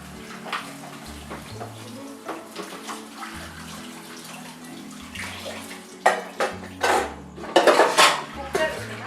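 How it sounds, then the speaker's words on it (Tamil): Greasy kitchen pots and utensils are scrubbed by hand under running water, with metal vessels clanking and scraping close by in irregular bursts that grow louder and busier toward the end. "ஓரத்துலலாம் நம்ம கை வச்சு கழுவுனாதான் பிசுப்பெல்லாம் போகும்."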